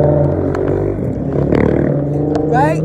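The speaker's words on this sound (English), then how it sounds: "I don't know why your car sounds like a motorcycle." A car engine with a loud, motorcycle-like rasp rumbles and revs nearby, heard under a person talking throughout.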